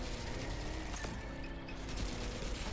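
Autocannon fire in the Helldivers 2 video game, loaded with APHE rounds, during a max-difficulty fight against squid enemies: a dense run of heavy gunfire and booms over a constant roar of battle noise, loud and continuous.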